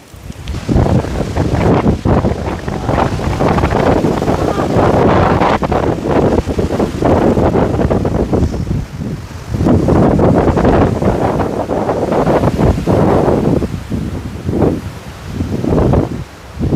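Strong wind gusts roar across an open hillside with windmills in view, buffeting the microphone in loud, heavy bursts that swell and ease, with brief lulls between.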